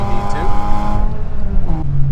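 A car on a track revs and accelerates hard, the engine pitch climbing through the gears, close and loud with wind rush behind it.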